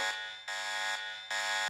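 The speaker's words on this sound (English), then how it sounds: "then the alarms go off and you get caught." An alarm goes off in a Roblox story game, a loud electronic buzzer tone that pulses on and off in roughly half-second bursts, with no voices.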